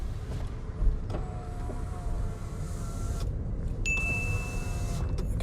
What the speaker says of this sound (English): show me how to put the windows up and down